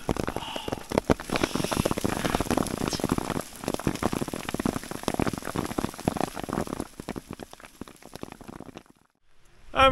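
Hail pelting down on a hiking trail in Peru's Colca Canyon: a dense, steady hiss of rapid pattering impacts for most of the stretch, close by, thinning near the end before a brief louder burst.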